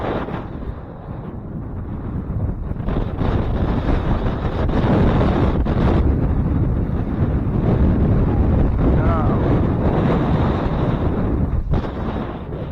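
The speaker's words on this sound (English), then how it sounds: "There's those gusts." Strong wind gusts buffet the microphone on a lake during a Michigan duck hunt, a steady broadband roar that swells and surges for the whole stretch, with a brief dip near the end.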